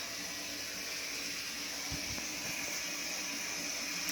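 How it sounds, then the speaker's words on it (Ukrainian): Water runs from a tap into a bucket in a continuous, faint rushing hiss that stays even throughout, with a couple of soft knocks partway through and no speech. "Ти що, хочеш ціле відро набрати тут води?"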